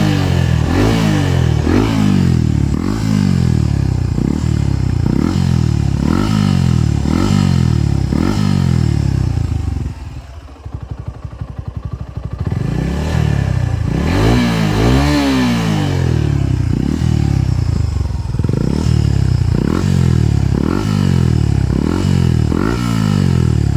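A Suzuki Gixxer SF 250 fitted with an SC slip-on exhaust revs repeatedly and loudly up toward about 7000 RPM in rising sweeps, dips briefly to idle midway, then resumes rhythmic revving, heard alone and close.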